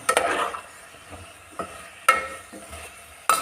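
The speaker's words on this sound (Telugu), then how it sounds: "చక్కగా కలుపుకోవాలి కాసేపు ఉడకనివ్వాలి పచ్చివాసన అయ్యేదాకా ఉడకనివ్వాలి" A spoon stirs tomato brinjal curry cooking in oil in a pan, with soft sizzling and a few sharp scraping clicks against the vessel at irregular intervals, close and fairly quiet.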